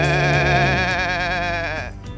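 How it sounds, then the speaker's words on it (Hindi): A goat bleats in one long, wavering, nasal cry that tapers off after about two seconds, loud and close with no talk. "सामने दानी बकरी को आते हुए रानी गुस्से से बोली, चल पीछे हट"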